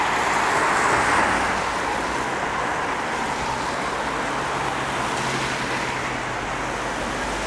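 Steady road traffic hums beside the River Thames, a broad, continuous wash of passing vehicles at moderate distance, slightly louder at the start and then even.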